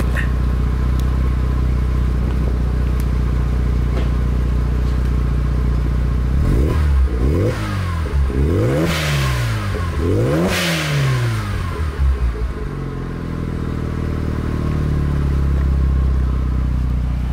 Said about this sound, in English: I'll give you a couple revs real quick.